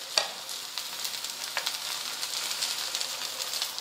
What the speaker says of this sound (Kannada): ಇವು ಶಾಲು ಫ್ರೈ ಮಾಡ್ಕೊಳ್ಳೋಣ್ರಿ